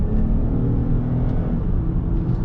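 A 2021 Toyota Camry TRD V6 accelerates gently, a steady, close, low engine rumble heard from inside the cabin with no talk.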